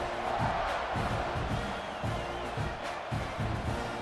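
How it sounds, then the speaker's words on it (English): A stadium crowd in an American football video game buzzes after a score, a steady roar of cheering with rhythmic swells and chants throughout, and no commentary over it. "this crowd is buzzing after that last score"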